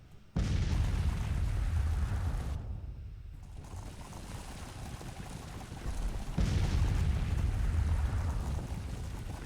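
Booming cannon and musket volleys in Grand Tactician: The Civil War, two long loud rumbling bursts of gunfire with a short lull between them, no voices.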